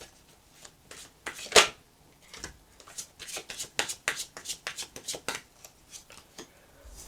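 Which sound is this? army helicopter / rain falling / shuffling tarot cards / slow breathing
shuffling tarot cards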